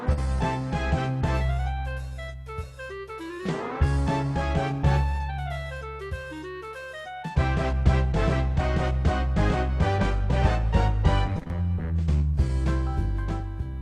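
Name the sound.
electronic keyboard playing a song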